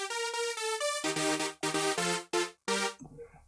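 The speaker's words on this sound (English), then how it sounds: "I've added a lower octave bass notes here," Bright electronic synth lead with a lower octave bass line doubled beneath it, playing a short melodic phrase of sustained notes that turns into punchy, gated chord stabs before cutting off, with no voices.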